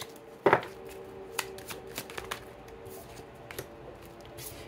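Tarot cards are handled close up, with one sharp riffle or snap followed by soft, scattered flicks and slides of single cards being drawn in a quiet room.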